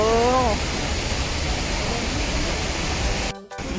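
Haew Suwat waterfall in Khao Yai roars with a loud, steady rush of falling water that fills the whole scene, with a brief voice at the very start and a short dip near the end.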